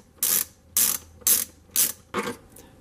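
A ratchet backs T25 Torx bolts out of a Craftsman leaf blower: five evenly spaced, close bursts of crisp ratchet clicking, each about a quarter second long, with the last one fainter.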